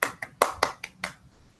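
Online meeting participants clapping: about six sharp, evenly spaced claps, loud and close, fading quickly into near silence.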